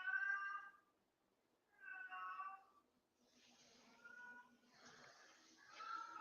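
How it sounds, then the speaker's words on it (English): A cat in heat yowls in long, drawn-out wailing meows, three or four separate cries with short pauses between, close and fairly clear over a quiet room. "my cat always in heat when I want to go on camera"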